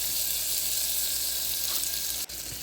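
Onions sautéing in butter in a pan over a slow flame give a steady, soft sizzle and hiss throughout, with a brief dropout near the end and no talking.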